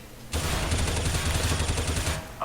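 A sustained burst of automatic rifle fire sprays for about two seconds in the shooter game Counter-Strike: Global Offensive, loud and rapid, with no talking.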